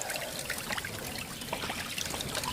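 Water trickles and splashes steadily through a gold sluice box as a bucket of material is run through at a Georgia gold dig, a continuous close, low-level wash with small gurgles.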